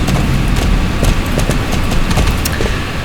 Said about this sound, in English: But that one I'm gonna do with my starter horse again.